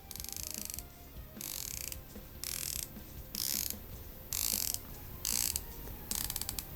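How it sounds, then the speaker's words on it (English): A rotating bronze bezel on a Wicked Watch Co Pearl Diver, a Swiss-made automatic dive watch, clicks through a series of quick ratcheting bursts, about eight short runs of crisp clicks, close and isolated. "Incredible bezel action on this watch"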